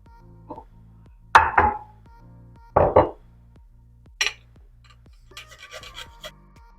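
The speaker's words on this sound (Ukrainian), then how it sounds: "І буду терти часничок на тарілку" A few short, rasping scrapes of garlic being grated onto a plate, close up, in separate bursts with pauses between, followed by lighter scratchy rubbing.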